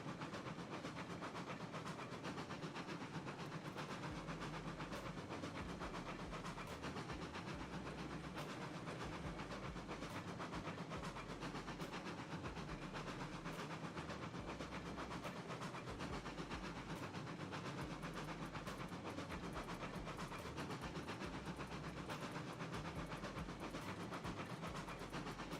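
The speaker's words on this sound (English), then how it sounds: "that's JB driving a log train" A log train runs in a video game, giving a steady, unbroken rumble and hiss with faint rhythmic clatter that holds at one even level throughout, with no talk.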